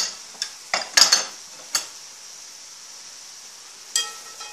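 A spoon stirs braised vegetables seasoned with hot paprika, pepper, salt and bay leaf in a pot, giving a few sharp scraping clinks up front and one later knock over a low, quiet sizzle.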